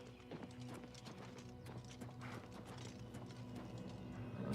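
Horse hooves clip-clop steadily at a trot in the video game Oblivion Remastered, faint and close, with soft ambient game sounds underneath.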